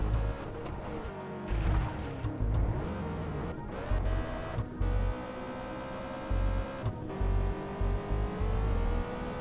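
A speeding car in a video game with a steady, loud engine drone whose pitch climbs and holds, broken by brief dropouts and low thumps, alone with no talk.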